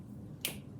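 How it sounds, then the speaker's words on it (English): A single crisp finger snap in a classroom, brief and fairly quiet against a low background hum. "So when I snap my fingers, read this number for me."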